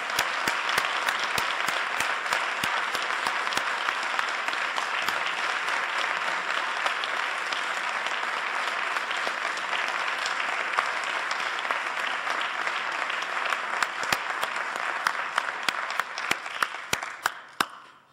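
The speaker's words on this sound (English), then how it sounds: "has to now be echoed with a thunderous round of applause for Irwin Cotler" A lecture audience gives a long, sustained round of applause, the dense clapping holding steady for many seconds before scattering into a few last isolated claps and fading out.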